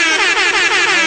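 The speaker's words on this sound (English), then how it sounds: "I want to give the DJ air horn" A loud, sustained DJ air horn sound effect with a brassy, buzzing tone, holding steady for about a second.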